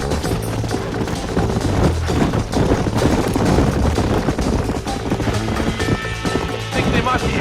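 Horses galloping in Red Dead Redemption, a dense, continuous drumming of hooves at close range over rumbling game sound with faint gunfire-like cracks.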